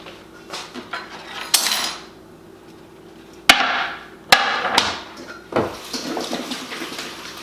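Vegetables being washed and chopped in a kitchen while making Jamaican red peas soup, with clattering dishes, knife hits on a cutting board and running water in irregular bursts.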